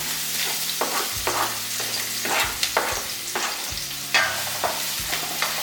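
Chopped onion sautéing and being stirred in a hot pan for chili lime shrimp fried rice, a steady close sizzle broken by repeated scraping stir strokes, with no talking.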